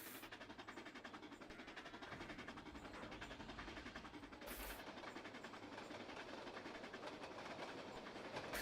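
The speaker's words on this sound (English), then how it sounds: "Oh, there's a train coming." A train in the Trainz railway simulator game runs on a steep hill, with a steady rhythmic clickety-clack of wheels and a low engine rumble, moderately loud and alone.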